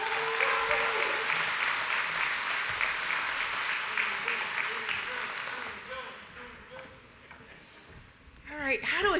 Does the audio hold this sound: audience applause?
yes